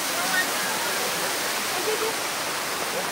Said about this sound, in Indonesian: Air terjunnya jalan santer nih.